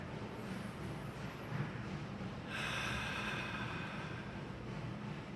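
A single deep breath, drawn in and let out slowly, carrying airy, broadband noise with a brief hiss in the middle, near and alone without any talk.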